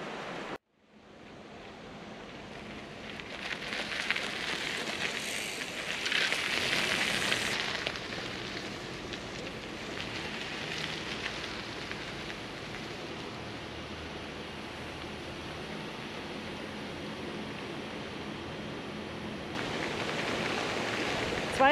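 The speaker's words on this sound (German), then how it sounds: "Im Moment müssen wir jetzt erstmal hier sitzen, zum Glück im Trockenen, und warten den Regenschauer ab." Steady rain shower pouring down outdoors while people wait under a dry shelter at the Königssee, a continuous broadband hiss that swells briefly early on and holds at an even, moderately loud level with no talk.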